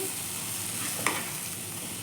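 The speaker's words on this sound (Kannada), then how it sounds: "1 2 ನಿಮಿಷದವರೆಗೂ ನಾವು ಇದನ್ನು ಚೆನ್ನಾಗಿ ಮಿಕ್ಸ್ ಮಾಡ್ಕೊಳ್ಬೇಕು" Drumstick sabzi with masala stirred in a pan: a constant close sizzle with one sharp scrape of the spoon midway, no voices.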